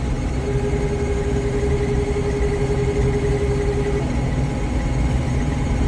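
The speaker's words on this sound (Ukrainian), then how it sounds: "Зараз комбайник працює на повних обертах і йдемо, будемо показувати." A 1991 Claas Dominator 98SL combine harvester with a 4 m header runs at full revs, a steady, loud, dense engine roar with a constant drone and no variation, close by and with no voices over it.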